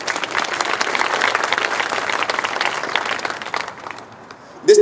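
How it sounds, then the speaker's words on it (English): An audience at a city's annual State of the City address claps in sustained, fairly loud applause that fades out, and then a voice begins speaking. "You all give them a round of applause."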